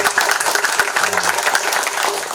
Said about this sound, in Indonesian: yang tepuk tangan lagi ini